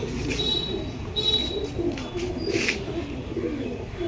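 A Pakistani pigeon in a loft gives soft, repeated low coos close by, with faint chirps and a little background noise around it.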